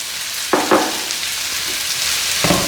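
Sliced onions with a little salt sautéing in a pan for egg biryani, a close, constant sizzle with a few scraping stirs, no voices.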